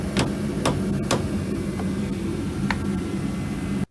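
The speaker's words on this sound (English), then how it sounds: "So basically you just pound the steer shaft on until it hits this and stops" Hammer blows drive a steering shaft onto its collar during a Dodge Dakota/Durango rack and pinion replacement: three sharp, close metallic strikes early on, with a fainter knock near the end, over steady shop noise.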